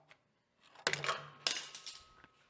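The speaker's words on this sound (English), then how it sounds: "drop my scissors" Metal scissors dropped onto a hard surface, two sharp clattering impacts close by, each followed by a short ringing rattle, then a few faint settling taps.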